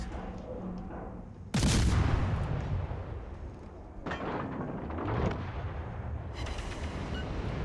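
Heavy warship guns fire in World of Warships, booming loudly in several separate salvos over a steady rumbling battle background, with each blast trailing off into a rolling roar.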